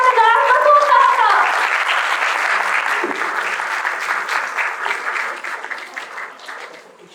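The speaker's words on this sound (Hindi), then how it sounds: "तो आइए मिलकर जोरदार तालियों में इस्तकबाल करेंगे" Audience at a breast cancer awareness symposium breaking into loud applause to welcome a professor to the stage, dense clapping that gradually thins and fades over about seven seconds.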